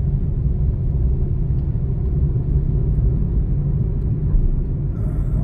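A car on a driving-school road-test course moves through city traffic during a lesson, heard from inside the cabin as a steady, low road and engine rumble.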